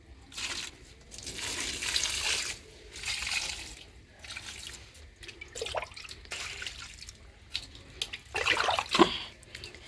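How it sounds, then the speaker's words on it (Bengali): Water is poured at the base of potted plants, including a hibiscus, in uneven splashing and trickling bursts with pauses between pours, heard close and without talk. "গাছের গোড়ায় জল দেব।"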